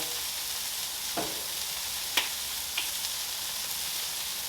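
A smash burger sears on a Blackstone griddle, giving a faint, even sizzle with a few brief scrapes or taps standing out.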